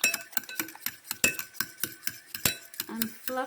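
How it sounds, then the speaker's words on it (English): Cracked eggs are whisked in a bowl, giving rapid, irregular metallic clinks and taps that sound close and fairly quiet, with no speech. "So I cracked my eggs and now I'm whisking"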